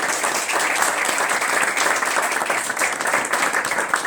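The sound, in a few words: audience applause for the governor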